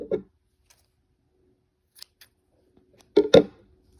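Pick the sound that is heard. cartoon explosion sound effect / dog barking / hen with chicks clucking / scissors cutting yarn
scissors cutting yarn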